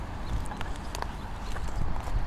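Horse hooves clip-clopping in a quick, steady rhythm of sharp hoofbeats at close range, played as a sound effect with no talking.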